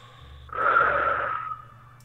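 One deep breath is released during a guided relaxation exercise, a soft, airy exhale lasting about a second over a faint low hum, with no speech.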